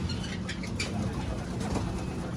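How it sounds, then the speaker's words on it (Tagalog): Pigeons in a bird loft fill the space with a dense, continuous wash of cooing and calls, several birds close by, with no voices. "Dami pa palang ibon dito."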